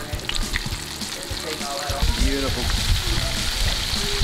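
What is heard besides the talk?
alligator meat frying in oil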